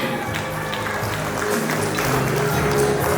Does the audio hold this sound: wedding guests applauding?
yes